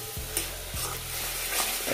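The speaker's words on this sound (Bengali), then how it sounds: "তো এই যে খিচুড়ির মশলা কষা হচ্ছে" Khichuri spices sautéing in hot oil with turmeric, a spatula scraping and stirring twice over a continuous close sizzle in a brief burst.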